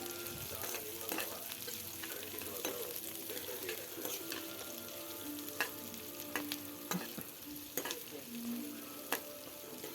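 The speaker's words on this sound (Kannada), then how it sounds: "ಅದೊಂದು ಸ್ವಲ್ಪ ಫ್ರೈ ಮಾಡ್ಕೊಳ್ಳೋಣ ಸ್ವಲ್ಪ ಟ್ರಾನ್ಸ್ಪರೆಂಟ್ ಆಗೋಷ್ಟು" Chopped onions sizzle in a pan for radish palya, a continuous soft fry broken by the repeated scrape and clack of a spoon stirring against the pan, with no talking.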